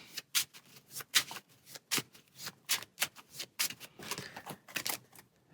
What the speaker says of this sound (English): So we'll go ahead and shuffle.